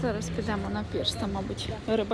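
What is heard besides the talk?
No everyday noise stands out behind the speech.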